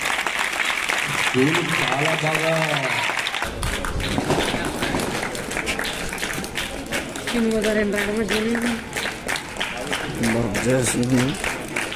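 An audience applauds at a school Republic Day celebration, a sustained clatter of clapping that runs under someone speaking and bursts of amplified singing or music.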